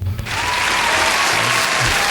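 A smattering of applause from a small group of listeners, steady dense clapping that starts abruptly and carries on at a moderate level without voices.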